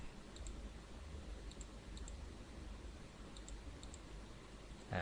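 Computer mouse clicking while editing a glowing-flower image, faint paired clicks repeating at irregular intervals over steady background noise, with no talk.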